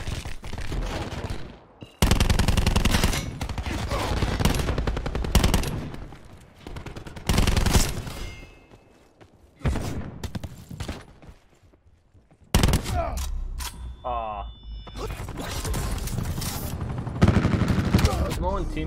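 Gunfire in Call of Duty: Black Ops 4 multiplayer, long loud bursts of rapid automatic fire broken by brief pauses and single shots, with teammates talking over the shooting.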